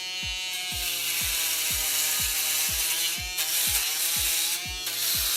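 A Babyliss Pro Titanium foil shaver buzzes steadily while cutting three days' growth on a head, a loud, close electric hum with a regular pulsing rattle running throughout.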